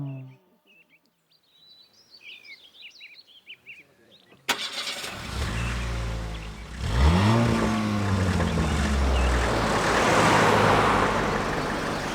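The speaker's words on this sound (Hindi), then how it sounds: "गाड़ी स्टार्ट करो, क्लच दबाओ, गियर डालो और एक्सीलेटर लो" A car engine cranks and catches with a sudden loud burst, then revs and accelerates with rising engine pitch over road noise, after a quieter stretch of faint chirping sounds.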